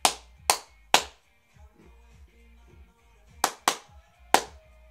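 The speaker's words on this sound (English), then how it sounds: "If I clap this, you would clap it back." A single person claps a short rhythm with bare hands: three sharp claps, a pause with faint background sounds, then three more claps, close and distinct in a quiet room.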